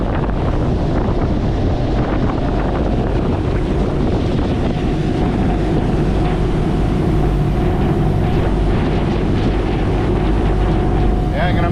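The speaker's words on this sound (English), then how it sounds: "I'm on board what they call an ocean jet fast ferry over to Cebu" Ocean Jet fast ferry crossing open sea toward Cebu: a loud, constant roar of engine, hull and water spray mixed with heavy wind buffeting on the microphone, steady and unbroken throughout with no clear speech.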